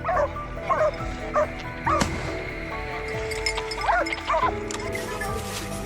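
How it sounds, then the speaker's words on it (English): A pack of hunting dogs bays and yelps at a wild boar in the hills, several sharp barks and yips coming in bursts, with a crashing thud partway through. "and the pack of dogs swarmed in"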